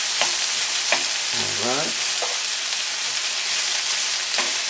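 Onions frying in a pan for vegan Jamaican patties, a loud, even, continuous sizzle up close, with someone briefly saying a word and a few light utensil clicks.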